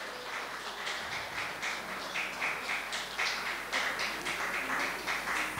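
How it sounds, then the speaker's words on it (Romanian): At an anniversary celebration for an electoral training centre, a group claps in a rhythmic, fairly regular pattern of distinct beats, moderately close, without other sounds over it. "Continuăm să aplaudăm."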